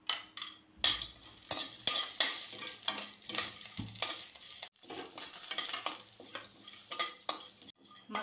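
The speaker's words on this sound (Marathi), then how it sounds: "आता आपल्याला हे सुके मसाले भाजून घ्यायचे। खोबरं घेते भाजून," Coconut and dry spices roast in a pan, stirred with frequent scraping and rustling strokes and light taps of a utensil, close and moderately quiet.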